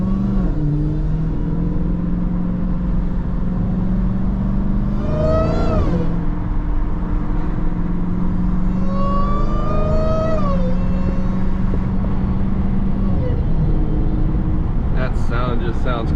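A Dodge Hellcat drives through busy traffic with a steady, close engine rumble and a supercharger whine that rises and falls, swelling twice as the car accelerates.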